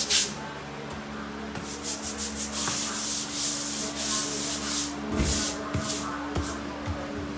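A scrubbing pad rasps back and forth over Saltillo terracotta floor tile, stripping old sealer in repeated close, gritty strokes with an irregular rhythm against a faint low hum.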